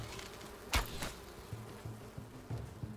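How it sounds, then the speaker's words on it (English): Bees buzzing in the survival video game Enshrouded, a steady insect drone with a few soft knocks and taps over it, no talking. "We want the torch for the bees."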